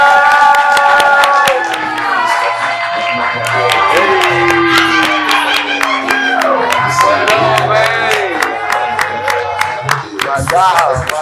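A live studio crowd at an Edgewood TV show claps and cheers for a rapper guest: dense, sustained applause with scattered shouts and whoops, loud and close throughout.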